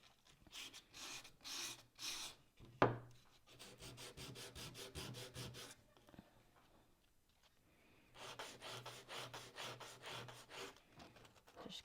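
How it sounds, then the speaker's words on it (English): A small wooden piece for a farmhouse-style shelf sign is sanded by hand, giving soft rhythmic rasping strokes in bursts, close and fairly quiet, with a brief knock and pauses between runs of rubbing. "Just keep sanding to do all what you want to do."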